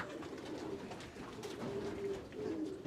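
Pigeons kept by a pigeon fancier coo softly in a low, repeated murmur, several birds close by against faint background noise, with no talk.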